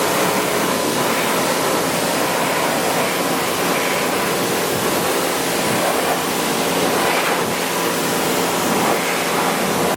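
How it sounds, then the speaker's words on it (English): A pressure washer rinsing Iron X wheel cleaner off a car wheel in a touchless wash, a loud, continuous broadband water hiss with slight surges, heard alone for the whole stretch. "So let's go ahead and power wash that off as well."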